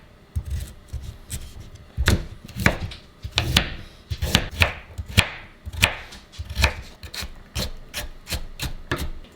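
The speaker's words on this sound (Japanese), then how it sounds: "じゃあ次はね人参をみじん切りしていきます。" A knife mincing peeled carrot on a cutting board gives a run of crisp, rhythmic chops, close and fairly loud, coming in quick bursts with brief pauses between strokes.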